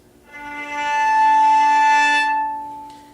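A single bowed viola note, thin and airy with a breathy, surface sound, held steady for about two seconds before fading out.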